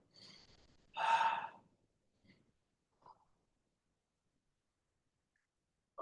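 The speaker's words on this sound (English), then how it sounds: "Breathe." Deep breathing during a stretching exercise: a soft inhale, then one strong, close breath, followed by a few faint breathy sounds before near silence.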